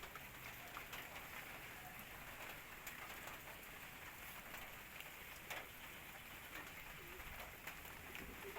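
Rain falling during a typhoon in Baliuag, a faint, steady hiss of drops on surfaces with scattered patters, heard from a distance with occasional pigeon sounds.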